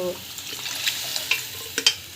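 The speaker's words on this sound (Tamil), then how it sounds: "ஸோ இது வந்து நல்லா வதக்கிக்கோங்க." Carrots and beans sauté in a pan with a steady sizzle and a few sharp scraping stirs near the end, loud and close.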